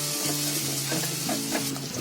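Ground green paneer gravy sizzles in a pan over a high flame while a spoon stirs it, giving a close, steady crackle with soft scraping strokes and a faint hum underneath.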